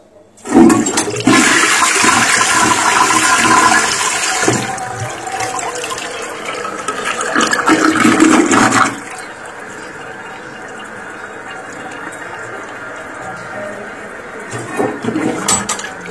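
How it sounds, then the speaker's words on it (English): An older no-name toilet with a flapper valve flushes loudly and close, a roaring rush of draining water for several seconds, followed by the quieter hiss of the tank refilling. "Ready for a flush."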